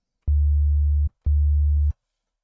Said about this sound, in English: if I draw in the first line here, we have a sine wave.